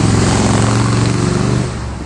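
Motorcycles roar past a graveyard, a loud dense engine drone that dominates close to the microphone and then eases slightly toward the end.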